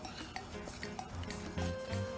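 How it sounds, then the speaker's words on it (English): A spoon scrapes and clinks around a pan of simmering morel mushroom cream pasta sauce with oregano, soft irregular strokes over a faint low bubbling, quiet and close. "Give it all a stir."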